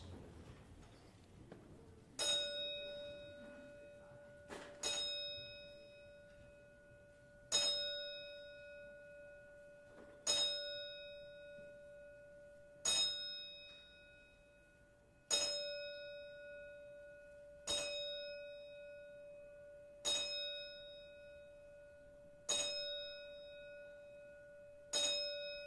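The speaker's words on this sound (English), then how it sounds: "I ask that you all please rise and stand in silence as we toll the bell 10 times" A single memorial bell tolls ten slow, evenly spaced strikes at a boxing event, each stroke ringing out with a long, bright, sustained hum that fades before the next, in an otherwise hushed room.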